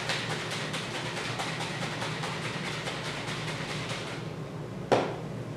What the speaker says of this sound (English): then give it a great shake